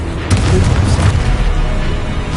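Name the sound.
Confringo blasting spell explosion in Hogwarts video game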